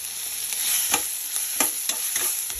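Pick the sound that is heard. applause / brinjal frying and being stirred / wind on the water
brinjal frying and being stirred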